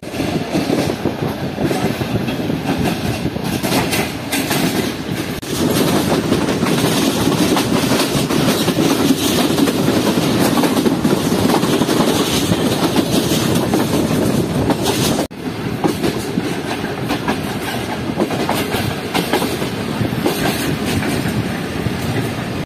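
The Karachi Express train running on the rails across a river bridge, with a loud continuous rumble and rattling clatter of the wheels close by, briefly dipping partway through.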